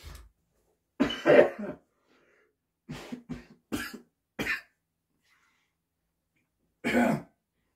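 A man coughs repeatedly, short harsh bursts in small clusters separated by silence, close and fairly loud, without talking.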